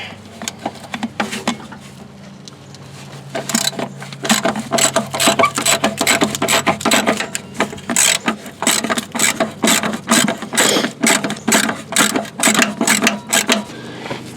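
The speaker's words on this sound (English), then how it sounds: "Now I'm just going to break the 12mm top two bolts loose." A 3/8 inch socket wrench on an extension loosens the 12mm top rear shock bolts on a Mazda 3, rapid rhythmic ratchet clicks in bursts, close and loud, with no talking.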